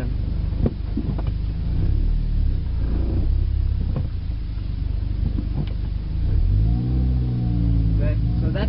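A manual-transmission car is driven while downshifting: a steady engine and road rumble with wind buffeting, and the engine note rises and falls near the end as gears change, under someone speaking.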